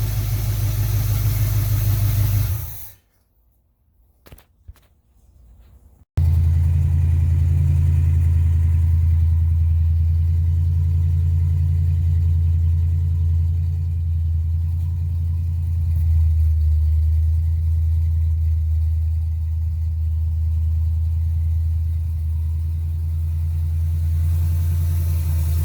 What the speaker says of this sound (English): you saw the car start and run